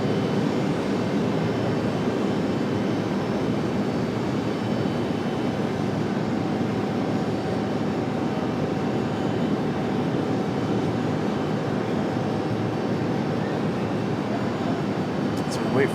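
A Boeing 737 jet at Raleigh-Durham International Airport, heard as a continuous, moderately distant broadband engine roar that holds steady throughout, with no talk over it.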